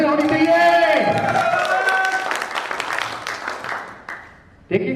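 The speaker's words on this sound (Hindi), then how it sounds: "एक बार उनके लिए भी बेहतरीन तालियां होनी चाहिए दोस्तों" An audience at a seminar claps and cheers. The crowd noise builds under a tonal, voice-like sound at the start, then continues on its own and fades near the end.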